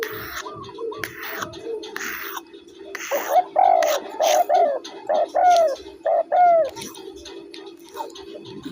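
A person imitates a dove's call with soft breathy sounds, then a run of about seven rhythmic hooting coos, close and fairly loud.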